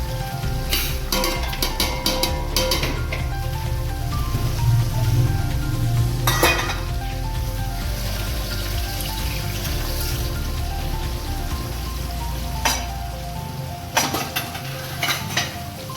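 Vegetables, including carrots and aubergine, sizzle steadily in hot oil and ghee for khichdi, a constant crackling hiss with occasional clinks of a utensil against the pan.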